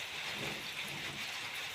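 Steady rain falls in a continuous, even hiss during a June downpour, with no distinct thunderclap in this short stretch.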